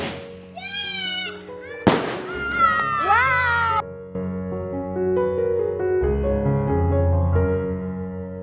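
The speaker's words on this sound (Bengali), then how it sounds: "আনন্দকে আরও বাড়িয়ে দিতে আতশবাজি ফোটানো হচ্ছে।" Fireworks set off at a village chicken barbecue: whistling rockets rise with gliding squeals, a sharp bang cuts in, then a steady crackling, buzzing drone of sparks continues under faint background voices.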